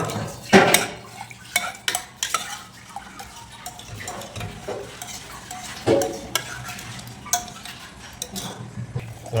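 Onions being stirred in a metal pan while cooking lungs gravy, with repeated scraping and clinking of a spoon against the pan over a low sizzle, fairly close and steady with sharper knocks at intervals.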